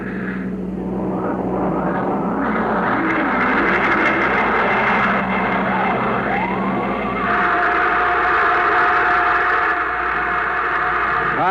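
A rocket blast-off in a vintage science-fiction radio drama, a loud, steady, continuous engine roar that fills the whole stretch, with whining tones sliding up and down inside it.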